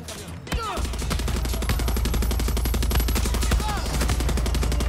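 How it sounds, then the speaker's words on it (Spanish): Rapid, continuous gunfire from the video game Far Cry 6 rattles throughout, dense bursts of shots under a constant rumble, with a few faint voices mixed in. "Son disparos"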